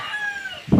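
Chickens on a farm on Simara Island, a short high crow or squawk followed by a burst of clucking close by.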